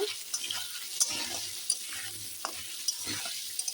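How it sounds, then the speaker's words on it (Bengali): Potatoes frying in a pan with salt, a steady sizzle broken by scraping stirs and light clinks of a utensil, moderately quiet and close, with no voices. "আলুটা আমি ভেজে নিচ্ছি"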